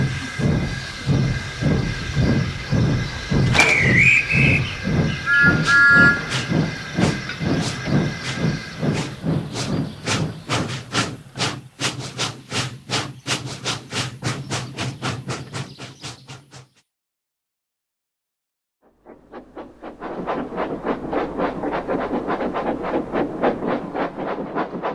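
Steam train engines puff along the line with rapid rhythmic chuffing and hissing, loud and close, a whistle-like tone early on, then a brief silence before a steady hissing rumble resumes.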